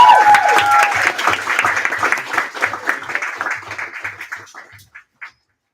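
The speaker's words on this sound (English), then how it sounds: "So round of applause for Shade." Audience applause at a student common room meeting, loud dense clapping with some crowd noise that gradually thins out and fades to a few last claps before stopping.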